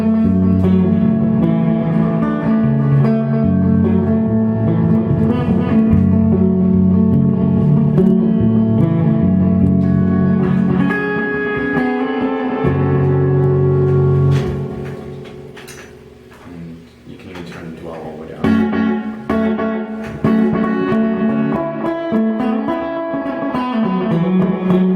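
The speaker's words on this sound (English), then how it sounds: "The echo is a single repeat that is minimally filtered" An electric guitar runs through a Cave Dweller echo pedal set to a single, minimally filtered slapback repeat, playing loud, continuous chords and notes with a quick doubled echo and noisy chip hiss, briefly dipping before resuming.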